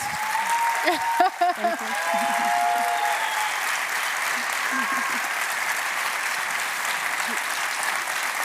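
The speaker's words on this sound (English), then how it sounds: "I think a very well-deserved applause." An audience claps after a talk on just climate action, sustained applause that carries on steadily throughout, with a brief voice heard near the start.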